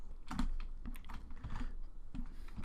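Rapid typing on the small keypad of a handheld PDA while entering a new stock product, producing quick, close clicking keystrokes in short uneven bursts with no one speaking.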